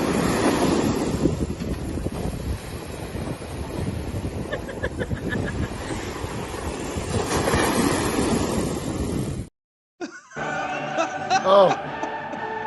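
Ocean surf surges around a person standing in the sea, with heavy wind buffeting the microphone in a constant roar before a brief dropout and some faint, scattered sounds at the end.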